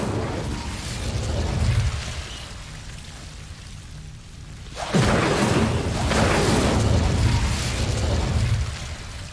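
A fiery burst erupts midway through the Incendio fire spell in Hogwarts Legacy, a loud whooshing flare of crackling flame over a constant rumbling game ambience, sustaining for several seconds before easing.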